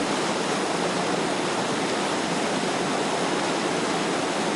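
A clear creek in a forest flows beneath a bridge in Dongyan Mountain National Forest Recreation Area, a steady, loud, dense rush of water with no other sounds.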